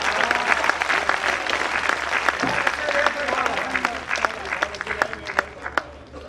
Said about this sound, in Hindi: पूरे सदन का भरपूर स्नेह चाहिए तालियों से